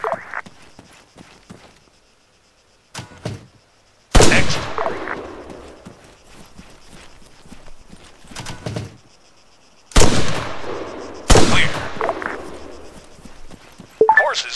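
Rifle shots ring out in Arma 3 on a beta training course with checkpoints, heard as several separate loud bursts with sharp echoing tails and quiet gaps between them.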